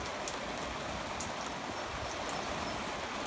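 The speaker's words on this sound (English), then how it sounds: "it's raining a little bit, so I'm a little wet" Steady rain pours down around a parked truck in a pasture during a thunderstorm with extreme flooding, a dense, continuous hiss of drops close by with no pauses.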